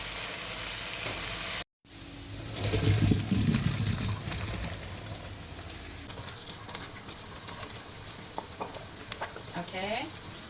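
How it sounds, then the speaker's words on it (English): Mushrooms sautéing in butter in a pan for chicken Alfredo, with a steady close sizzle and frying hiss, occasional stirring scrapes and clinks, and a short silent gap near the start. "saute the mushroom in the butter until soft"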